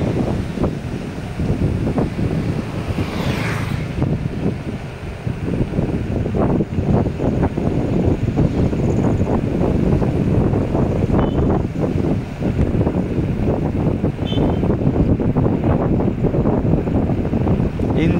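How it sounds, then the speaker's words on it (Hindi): Strong wind roars continuously across the microphone while riding an electric scooter through Bengaluru, a loud, steady buffeting rush that persists throughout with faint road noise and a voice speaking under it. "बहुत तेज हवा चल रहा है"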